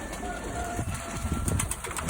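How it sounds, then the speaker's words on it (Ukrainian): Yellow tumbler pigeons coo in a loft, soft repeated calls mixed with rustling and a few wing sounds under faint background noise. "Ну Це 10 жовтих голубів. Це куверкотові."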